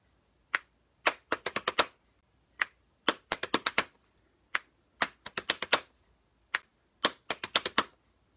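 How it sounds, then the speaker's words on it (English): Sharp finger snaps alternate with quick bursts of patting in a repeating rhythm, crisp and close, with no one speaking. "the snap and pat would sound like this."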